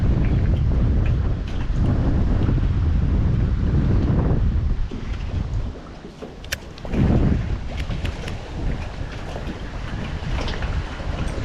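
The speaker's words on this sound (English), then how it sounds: "that's a big wind right there" Strong wind gusting hard across the microphone at a fishing spot on the water, a loud steady roar that eases briefly mid-way and then surges again.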